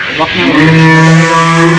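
A single long, low moo from a dairy cow at a farm, loud and close, holding steady for nearly two seconds.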